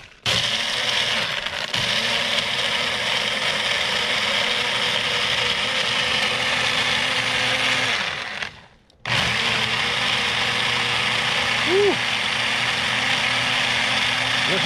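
A 1200-watt Ninja blender whirs steadily and loudly while blending frozen margaritas inside an E350 Econoline camper van, cutting out for a brief moment near the end before running on again.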